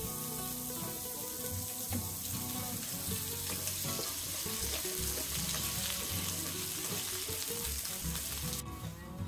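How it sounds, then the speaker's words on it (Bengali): Potatoes frying in a little oil in a pan make a continuous, hissing sizzle that stays even throughout, close and moderately quiet. "এবার আলু ভেজে নেব।"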